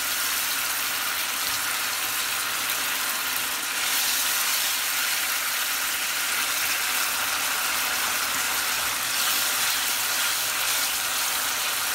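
Eggplant pieces go into tamarind water in a hot pan for Bengali pickled brinjal, giving a steady, close bubbling sizzle that runs unbroken throughout with no talk.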